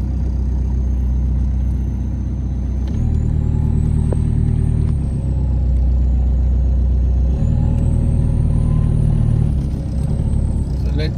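A VW Golf GTI mk2 engine drones steadily while driving, a loud, close, low rumble that swells and eases slightly as the revs shift, with no clear talk over it.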